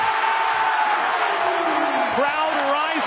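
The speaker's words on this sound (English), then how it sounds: "Crowd rising to its feet." Basketball arena crowd rising to its feet during an NBA Toronto game, a loud, dense roar of cheering swelling across the whole space, continuous and close.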